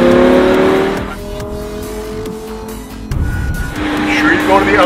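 A Lamborghini Huracan accelerates hard on a race track in Las Vegas, its engine revving loud and close with rising tones as it pulls out of a corner, easing briefly before surging again, with an instructor talking over it.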